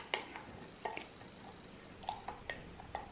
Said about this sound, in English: It's probably a dumb idea to mix this with a plastic spoon